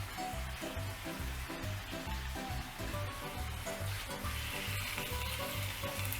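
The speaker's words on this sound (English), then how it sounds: "As you can see, I'm turning it over and you can just see that pasta will start to catch a little bit." Spaghetti fries in tomato sauce in a pan and is turned over, a constant close sizzle and crackle with soft, rhythmic scraping and shuffling as the pasta is moved.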